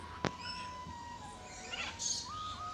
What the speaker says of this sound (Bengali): এখানে কিন্তু অনেক কালারের কিন্তু পাখি রয়েছে